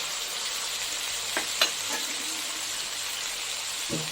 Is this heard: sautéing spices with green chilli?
yes